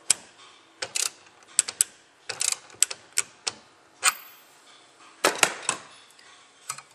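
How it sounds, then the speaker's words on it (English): A wrench tightening the lock nut on a C A Technologies Lynx spray gun during repair, giving sharp irregular metallic clicks and ratcheting taps, close and crisp against a quiet background with no talking. "Tighten up the lock nut."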